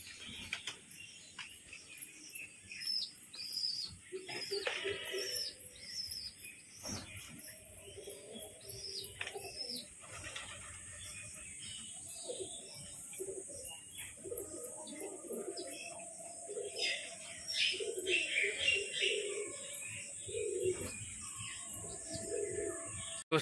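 Pigeons in a rain-soaked loft, a breeding pair among them, coo softly and repeatedly nearby, with chirps, rustling and insect-like buzzing in a quiet background.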